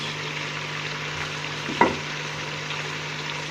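Chicken pieces fry with salt, turmeric and ground chilli in a pan, giving an even, continuous sizzle, with a single clink of a spoon partway through and no speech.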